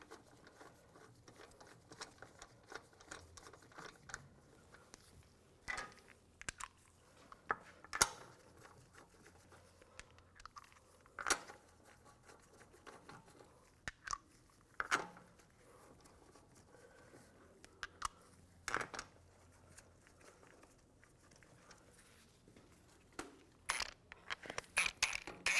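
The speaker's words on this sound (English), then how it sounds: "Put the lug nuts in." Lug nuts going onto a BMW X3 rear wheel produce quiet, sparse metallic clinks and light scrapes, scattered irregularly at close range over a near-silent background.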